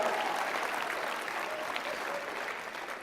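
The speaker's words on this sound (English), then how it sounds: "it's fitting to give her a round of applause for her help in this process" At a political conference, an audience gives a steady wash of applause that stays dense and even and fades slightly toward the end, heard from a moderate distance.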